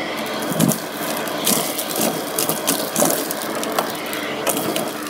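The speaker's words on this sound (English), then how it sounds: "Shall we have a look at this bit of live vacuuming up?" A vacuum cleaner runs with a steady mid-pitched drone, punctuated by rattling and crunching bursts as debris is sucked up in short sweeps.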